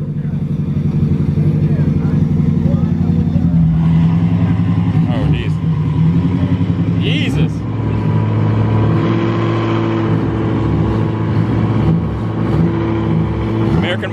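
A stock K20 AWD Honda Civic sedan racing a Dodge Charger, engines revving hard and shifting through gears with a loud, rising drone, heard beneath someone talking.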